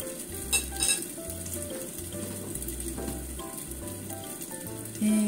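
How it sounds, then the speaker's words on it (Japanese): A meatless tofu hamburger patty made only with vegetables fries gently in a pan over low heat, a soft steady sizzle close by with a few light clinks from the pan, no voices. "ちょっと弱火で焼きますよ"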